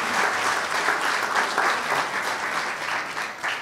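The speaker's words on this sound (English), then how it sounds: "please, a round of applause for all of our students that work so hard" Audience applause at a 2020 Black History Month essay awards ceremony, honoring student essay winners; steady, dense clapping from a sizable crowd sustained for several seconds at moderate loudness, with no talk.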